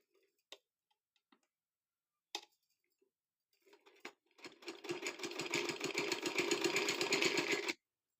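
A sewing machine stitches along a folded trouser hem. A few scattered clicks come first, then a steady, rapid, close-up mechanical run of ticking needle strokes lasts about three seconds before stopping abruptly.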